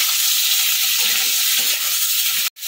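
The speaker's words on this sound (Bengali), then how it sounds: "আলু পটলটা হালকা ভাজা হয়ে গেছে" Steady, loud sizzling of potato and pointed gourd frying in hot oil, a continuous crackling hiss that cuts out sharply just before the end.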